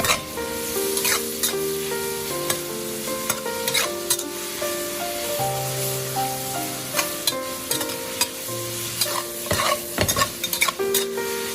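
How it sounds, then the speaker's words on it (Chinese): Green pepper strips stir-fried in a wok for green pepper tofu, with steady sizzling and frequent scraping strokes of a spatula, loud and close, no voices. "接着把刚才切好的青椒放入锅中，再快速的翻炒，将青椒炒至断生。"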